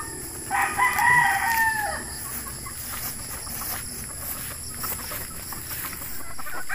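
A Beatles White gamefowl rooster crows once, loud and close, with a long drawn-out call early on, followed by quieter farmyard background noise.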